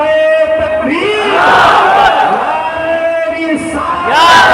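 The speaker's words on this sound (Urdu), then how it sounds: "پورا مجمع استقبال کر رہے نعرے تکبیر" A large crowd at an Islamic religious gathering (an annual urs in Mumbai) chants slogans in welcome, loud massed voices answering in rising, sustained cries with cheering throughout.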